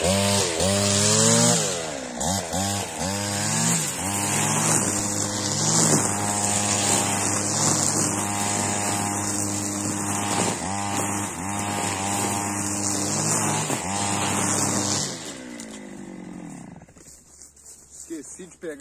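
A brush cutter fitted with 3.3 mm square-profile Steel nylon line cuts through thick grass and weeds, its loud two-stroke engine whining steadily near the mic with load changes, then dropping off toward the end.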